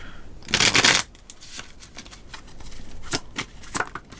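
A tarot card deck is shuffled close up, a crisp burst of riffling followed by softer scattered card flicks and taps in a quiet room.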